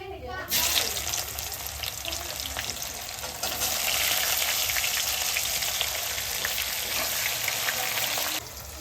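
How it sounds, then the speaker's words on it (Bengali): Chopped onions fry in hot oil with cumin seeds, whole garam masala, dried red chilies and bay leaves, giving a loud, continuous close-up sizzle that swells after a few seconds and then suddenly drops away. "পেঁয়াজটা লাল লাল করে ভাজা হয়ে গেছে"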